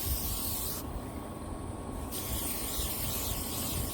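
Insect repellent sprays onto clothing in one continuous hissing burst of about a second, close up, with a steady background hiss before and after.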